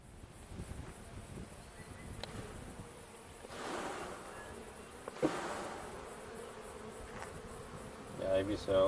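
Honeybees buzzing around an open top bar hive during an inspection, a dense continuous drone close by, with a few brief handling knocks.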